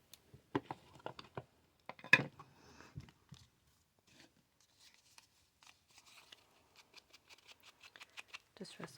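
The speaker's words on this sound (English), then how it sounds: "Distress all the edges so it just looks nice and aged." Paper edges are distressed by hand for scrapbooking, giving rapid dry scratchy scraping strokes in short bursts, close and quiet, with pauses and some talking in between.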